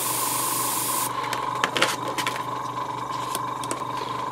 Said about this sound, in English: Let's dry it with the air quickly.